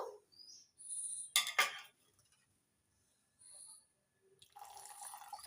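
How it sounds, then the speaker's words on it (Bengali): Warm milk poured from above into a clay pot whose inside is coated with sour curd, a splashing, running pour in short bursts separated by quiet gaps, close and fairly clear. "এবার দুধ দিয়ে দেব"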